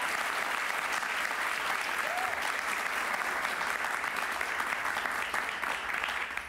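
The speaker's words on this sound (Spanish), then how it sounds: "Un aplauso para ellos." A studio audience gives sustained, even applause, a dense wash of clapping at moderate volume, with no talking.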